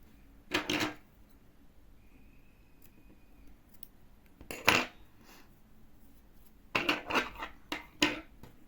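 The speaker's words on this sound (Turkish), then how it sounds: "Şu ipi kesebilirim." Scissors snipping crochet yarn while making a crocheted strawberry, with a few sharp close cuts and clicks spread apart in an otherwise quiet room, no talk.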